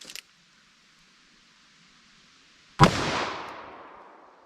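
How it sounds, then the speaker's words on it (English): A .44 Magnum revolver fires a single sharp, loud shot into a ballistic gel block outdoors, the report followed by a decaying echo, after a quiet pause with a faint metallic click at the start. "Now let's hit it with our 44 Magnum."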